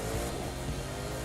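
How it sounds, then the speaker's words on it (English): A McLaren P1 engine in The Crew 2 racing game drones steadily at high revs, a dense continuous whine and roar heard alone for a brief stretch. "So I drive a McLaren P1"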